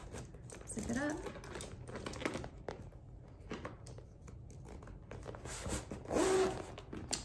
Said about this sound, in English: I'm gonna go ahead and zip it up.